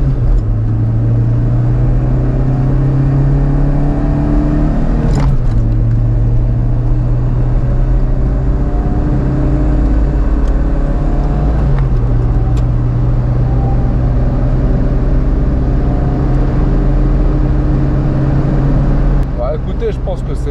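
Warm car engine fitted with a Green Filter performance air filter pulls hard up a fast access road, loud steady engine drone rising in pitch with distinct gear changes around every several seconds, heard from inside the car.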